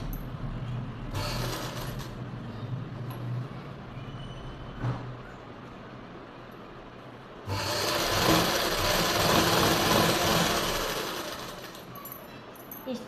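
Sewing machine stitching a salwar seam in bursts, a soft buzzing run, a pause with small handling sounds, then a longer louder stretch of steady stitching, close and without speech.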